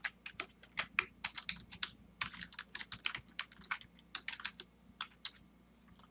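Someone types a short line on a computer keyboard to edit a file, producing a close, quiet run of crisp key clicks in uneven bursts with brief pauses.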